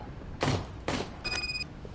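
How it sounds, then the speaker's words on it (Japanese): Gunfire in the video game RoboCop: Rogue City: two sharp loud shots about half a second apart, followed by a brief electronic tone, with no talk. "銃声だな。"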